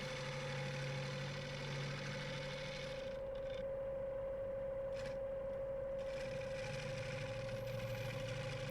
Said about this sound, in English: we're going to start at the outside of that foot and cut in and then back out again to sort of the middle